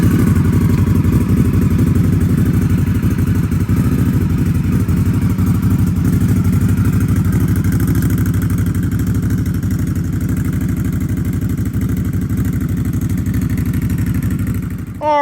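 Motorcycle engine running near a trailer beside a Ford Lightning pickup, a loud, close, steady idle with a rapid pulsing thump and mechanical clatter that holds throughout, with no talk.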